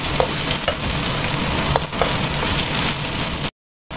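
Tofu sautés in a hot pan for a string bean dish, with dense, loud, continuous sizzling and frying crackle and a few stirring scrapes close up, cutting off briefly near the end; no talk.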